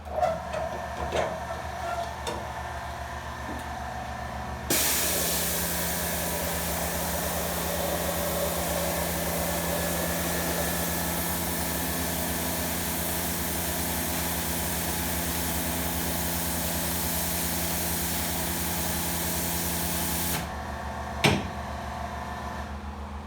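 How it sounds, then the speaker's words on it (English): A motor-driven water spray gun blasts gunk from fabric, switching on with a sudden loud, steady hiss and motor whine that holds for about fifteen seconds before cutting off, with handling knocks around it. "Then I turn on the switch for the motor, and it's going to get noisy"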